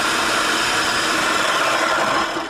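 A blender processes a raw food mixture with a loud, steady, close grinding roar that holds evenly and begins to fade at the end.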